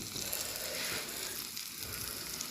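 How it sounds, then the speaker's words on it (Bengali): Potatoes fry in a pan for a potato-and-egg curry, giving a steady, close broadband sizzle that holds evenly throughout with no talking. "আলু একটু ভাজলে একটু ভালো লাগে, বুঝছি, এই জন্য আলুটা একটু ভাজা ছড়াইছি।"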